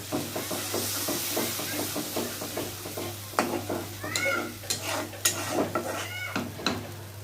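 Spice paste with a little water being sautéed for a chicken dish in a wok on a stove, with a close, low sizzle and a regular rhythm of scraping stirring strokes, plus several brief high squeaks.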